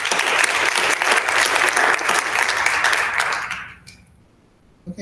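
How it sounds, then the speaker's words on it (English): A crowd at a school board meeting applauds steadily and loudly for several seconds, then the clapping trails off into near silence. "let's give him another round of applause"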